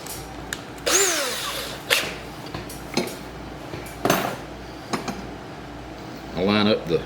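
A power drill whirs in short bursts, revving up and down, mixed with metallic clinks and taps of tools being handled nearby.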